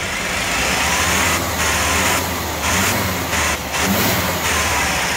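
A Ford F150 pickup with a clogged, restricted exhaust, from a failing catalytic converter or muffler, revs up from idle in a loud, close, steady engine drone that rises and dips several times.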